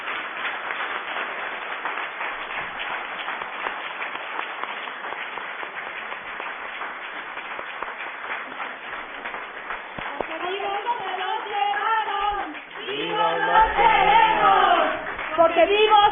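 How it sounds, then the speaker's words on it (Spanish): Audience clapping rolls through a hall at a human rights seminar on forced disappearance, steady and moderately loud for about ten seconds before a speaker's voice rises over the continuing applause. "Un fuerte abrazo y un fuerte aplauso le pido al público"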